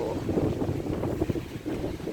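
Strong outdoor wind gusts buffet the microphone in a continuous, rumbling roar with no pauses across the whole stretch.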